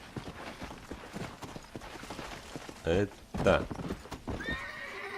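Horse in the video game Red Dead Redemption, steady clip-clop hooves with two loud neighs partway through, while someone speaks Portuguese over the game audio.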